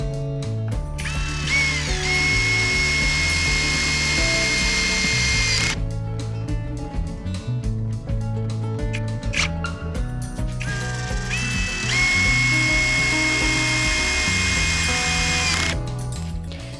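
Power drill driving screws to join the back and sides of a DIY hamster cage, two long whining bursts with pitch shifts between them, plus clattering handling and ratcheting clicks throughout.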